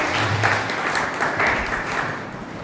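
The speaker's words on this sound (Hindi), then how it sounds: "तो एक बार जोरदार सब इनके लिए तालियां बजाएंगे" Applause from an audience at a Mother's Day special programme at the Burhanpur service centre, a steady, dense wash of clapping lasting throughout at moderate loudness with no talk over it.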